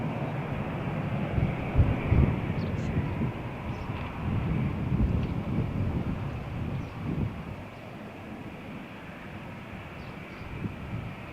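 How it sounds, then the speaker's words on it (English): A jet airliner takes off from the runway at Malaga Airport on a stormy morning, a broad roaring rumble heard from a distance, swelling and then easing slightly as the aircraft climbs away, mixed with wind buffeting the microphone. "Takeoff speed 147. Perfect takeoff."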